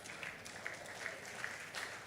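Faint, distant clapping from a summit audience at a technology conference, a thin scattering of hands with a few sharper claps standing out at intervals.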